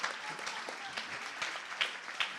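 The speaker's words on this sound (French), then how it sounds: "On peut les applaudir." An audience applauds the witnesses at the close of a press-industry conference session, a soft, steady patter of clapping with a few sharper claps standing out.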